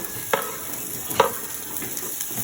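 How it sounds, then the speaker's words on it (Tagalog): Garlic and onion are stirred and sautéed in a pan for tilapia, with a light steady sizzle broken by a few scraping stirs of a spatula. "At pagkatapos po nating ahunin, ating igigisa na. Unahin natin ang bawang, sibuyas"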